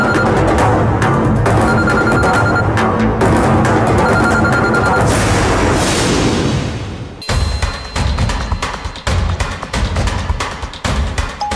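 A telephone rings loudly in a scene from a Kannada TV serial, its tones sounding over a dense bed of music and noise before the ringing cuts off and fades.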